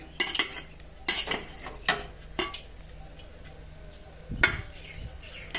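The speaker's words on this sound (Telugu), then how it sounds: "ఇప్పుడు కొత్త మనం ముందుగా తరిగి పెట్టుకున్న కొత్తిమీరని వేసుకొని ఒక్కసారి కలుపుకోవాలి" Cooked egg biryani rice being stirred with chopped coriander in a pot: a spoon scrapes and clinks against the metal in uneven strokes, moderately close, with a quiet background.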